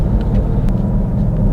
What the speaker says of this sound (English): It's better to just mash the gas pedal from a stop and listen to the orchestra out the back.